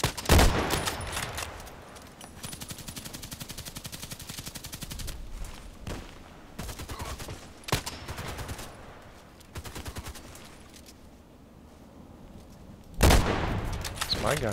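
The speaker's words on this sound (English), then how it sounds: "Using the sniper gun" M40A6 and EBR sniper rifles fire in video game combat: sharp, loud cracks that come in irregular bursts, with rapid rattling volleys between them and the heaviest blasts at the start and near the end, set against a steady battle din.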